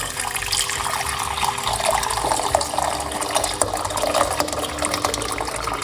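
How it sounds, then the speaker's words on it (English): Hot water is poured into a cooking pot in a kitchen, a steady splashing gurgle of running liquid that continues throughout at close range, with no talk. "we are going to put 1 cup of hot water"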